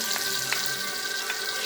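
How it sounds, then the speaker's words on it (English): Garlic fries in a pot with a close, steady sizzle and faint crackle, cut by a few brief clicks of the pot or utensil, with no voices. "Put the rest of the garlic over here and the pot for the vegetables."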